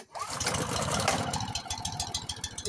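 Honda snowblower engine cranking and catching in extreme cold with the choke on, a brief rough start-up that settles into a close, pulsing, knocking idle with some rattle.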